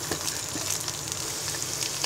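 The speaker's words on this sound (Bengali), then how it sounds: "পেঁয়াজ বাটাটা হালকা ভেজে নিব।" Onion paste fries lightly in soybean oil, a soft, even crackling hiss that stays steady and fairly quiet for the whole moment.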